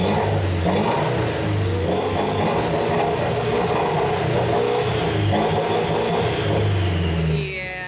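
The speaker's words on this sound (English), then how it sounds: "You just want to start it again to hear what it sounds like" A Mitsubishi Lancer EVO X fitted with a newly installed Intoxicated aftermarket exhaust runs loud and close, its engine droning and revving steadily for several seconds before easing off at the end.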